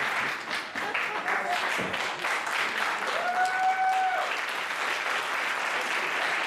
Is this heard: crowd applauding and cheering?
yes